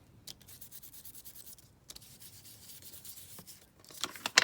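An ink pad rubs along paper edges in quick, soft scuffing strokes, faint and close, with brief pauses between passes and no talk.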